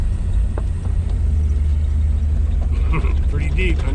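A car's engine is floored and roars steadily, low and loud, as it pushes through a deep hole of clay mud, with a voice talking over the rumble.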